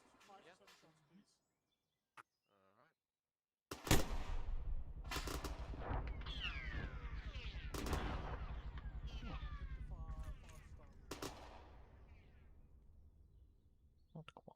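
Burst gunfire from the video game ArmA 3 erupts abruptly after near silence, with loud close shots and echoing reports rolling on for several seconds before fading, alongside distant crackling and birdlike chirps.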